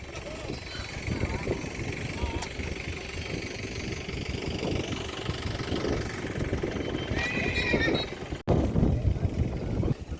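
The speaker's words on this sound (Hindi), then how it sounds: "ઘણા બધા ઘોડા આવ્યા છે" Horses gathered for a horse race in Dhanavada, Kutch, with whinnies and hoof sounds in a busy, steady din of crowd chatter and an idling engine throughout.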